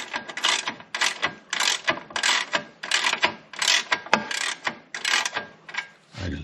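A ratchet wrench loosens bolts on a Can-Am Canyon XT motorcycle assembly, a close rapid series of rhythmic clicking bursts repeating about twice a second, loud and alone without talk.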